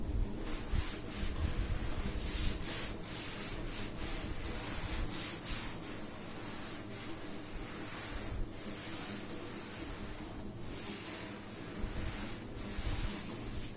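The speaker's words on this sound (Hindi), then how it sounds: "जैसे पहले इसको रब कर लेते हैं।" A board being rubbed or erased in a physics classroom, a steady, close scraping rub that runs continuously with only slight pulses and no talk over it.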